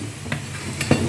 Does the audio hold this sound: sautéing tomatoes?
yes